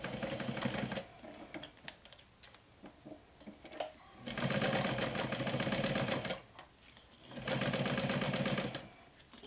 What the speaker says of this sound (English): I'm sewing 1/8 of an inch away from the folded edge.